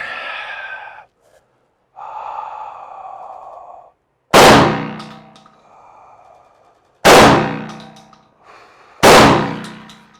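Three loud, sharp shotgun blasts fired at 15 yards with Federal reduced-recoil Flight Control ammunition, each with a ringing decay, spaced a few seconds apart after some quieter breathy sounds at the start.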